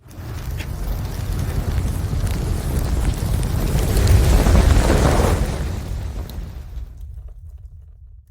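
A propane burner roars loudly after the tank is opened, a heavy rushing low-pitched whoosh that swells and holds for several seconds before cutting off abruptly into near silence.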